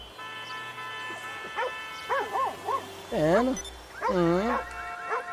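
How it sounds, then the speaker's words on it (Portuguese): Dog barking in a GTA video game, several pitched, whining bark-like calls in bursts over steady game background tones, with someone speaking nearby. "Nossa, essa tá latindo aí, filho?"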